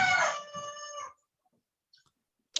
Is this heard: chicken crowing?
yes